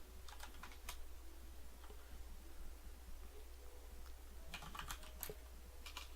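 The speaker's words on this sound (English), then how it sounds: "I'm looking down my nose at what I'm typing through a small magnifying thing" Faint computer keyboard typing comes in two short bursts of rapid keystrokes separated by a quiet pause, with a soft constant hum underneath.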